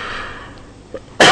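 A single short cough from a man in a radio studio bursts out abruptly at the end after a moment of quiet breathing.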